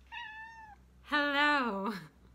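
A cat meows twice, first a short steady call and then a louder, longer, rising-and-falling meow, both close and clear over a quiet background.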